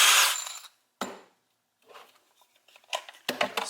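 A DeWALT DCD791 compact cordless drill runs on gear 2 with a 2 amp battery, opening with a loud burst of drilling that fades off, then a sharp knock followed by quieter, scattered clicks and rattles.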